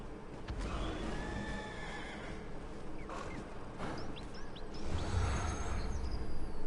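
A horse neighs in a PS4 fantasy video game near the Starhaven waypoint, a few high whinnies rising over steady game ambience, with faint hoof clip-clops and rumbling background noise building toward the end.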